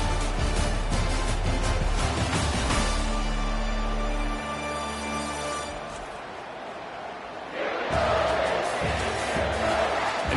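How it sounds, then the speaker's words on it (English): A packed football stadium crowd at a Michigan versus Buffalo game roars steadily, dips briefly into a quieter murmur, then swells loud again, dense and continuous with no single voice standing out. "Listen to this crowd just shaking the girders of this place, trying to help their defense."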